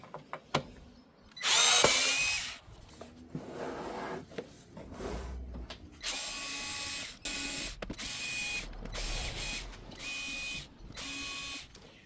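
Power drill whirring in short bursts as it backs screws out of a Casio AP-28 digital piano under repair, each burst loud and close with brief pauses between.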